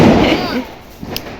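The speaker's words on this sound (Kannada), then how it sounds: "ಪಟಾಕಿ ಡಮ್" A Diwali firecracker goes off with a loud, close boom that rumbles and fades, followed by a sharper, smaller pop a second later, with voices nearby.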